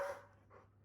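A pet dog at home, excited while playing with its play bells, lets out a brief, faint breathy pant and huff at close range.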